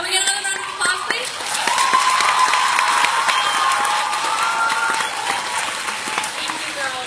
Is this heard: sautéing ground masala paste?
no